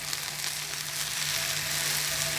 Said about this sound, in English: They're sizzling, they're sauteing.